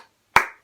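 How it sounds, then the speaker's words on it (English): A single crisp hand clap, close and loud, rings out alone with a short decay, part of a clapped rhythm pattern in an acting workshop. "he'd like clap, and then we had to repeat it"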